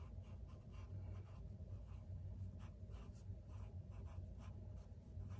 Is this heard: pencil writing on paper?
yes